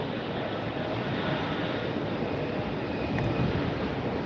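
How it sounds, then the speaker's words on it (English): A JetBlue airliner taxiing at Tampa airport on a very windy day, a steady broad jet-engine roar with wind noise, constant and fairly loud throughout. "We've got a JetBlue taxiing up now."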